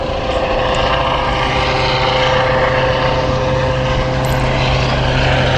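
A helicopter's loud, steady engine and rotor drone fills the scene without pause, holding an even level throughout.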